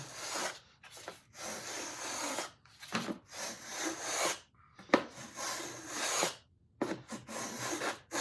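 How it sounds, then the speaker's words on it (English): Rasping file or rasp strokes shaving wood from the upper half of a steel-string guitar brace, about eight close, rhythmic back-and-forth passes with brief pauses between them and no talking. "I'm trying to just take a little bit off of, say, the upper half, the brace"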